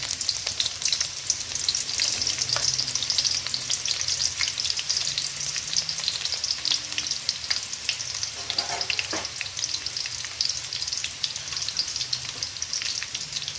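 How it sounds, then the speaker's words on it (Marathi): Onions frying in oil for Diwali poha chivda, a steady dense crackling sizzle that runs without a break at close range, with a few soft stirring scrapes and no voices. "समजा वेळेवर कापलेला असेल तर त्याला खूप छान फ्राय करायचं तेलामध्ये"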